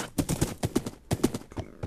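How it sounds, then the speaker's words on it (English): Horse hooves clip-clopping during a ride in the Minecraft video game, a quick, regular series of hollow footfalls at close range, with no talking over them. "I am on a horse"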